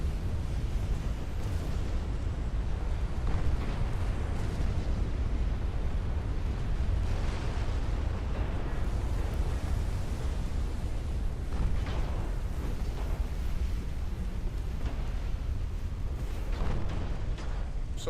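Torpedo explosions and naval battle noise in Ultimate Admiral Dreadnoughts, a continuous rumbling roar of booms and blasts lasting well over fifteen seconds with repeated heavier impacts and no clear voices.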